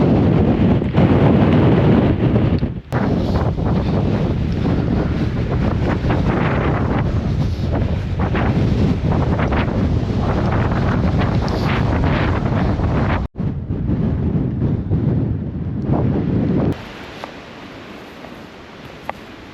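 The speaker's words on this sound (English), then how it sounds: "it's time to get out of this wind properly because that sucked" Strong wind on a mountain in the Kaweka Range buffets the microphone in a loud, continuous roar that gusts and drops out briefly, then eases near the end.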